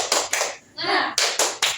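A classroom group performs the tepuk semangat spirit clap: two sharp claps, a brief chanted shout, then three more claps in a quick patterned rhythm, loud and close.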